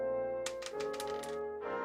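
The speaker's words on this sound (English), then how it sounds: "Let's roll the dice." Dice rolling in the Dragon Quest VII video game: a quick run of rattling clicks over a steady musical backdrop, ending in a final softer burst, with no talking.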